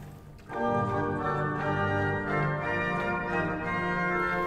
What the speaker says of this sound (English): Two-foot flute.